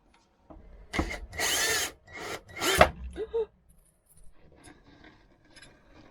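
An electric screwdriver drives screws into wood in a few loud whirring bursts of about a second each, followed by quieter handling noise and faint clicks.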